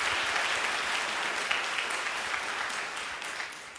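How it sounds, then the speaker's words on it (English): An audience at a ceremony claps in steady, dense applause that holds at an even level throughout, then eases slightly toward the end, with no voices over it. "Let's give them a round of applause."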